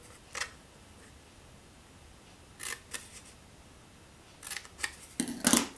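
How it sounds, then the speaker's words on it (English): Paper snips cut into the side score lines of cardstock in a few separate bursts of crisp, close snipping, with quiet pauses between them and a quicker run of cuts at the end. "We're going to take our paper snips again, and we're going to cut into the 2 side score lines"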